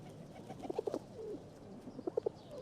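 Pigeons coo with soft, low throaty burbling phrases, a cluster of rolling coos followed by another short run, close by over a faint background hum.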